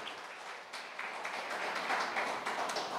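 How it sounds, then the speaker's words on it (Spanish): A church congregation claps together in a steady, dense wash of applause that swells slightly and stays fairly faint and distant throughout. "Dale un fuerte aplauso al Señor."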